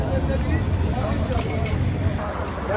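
A spoon stirring a bowl of lablabi chickpea soup at a busy eatery in Karbala, Iraq, giving a few faint clinks against the bowl beneath a constant murmur of crowd chatter.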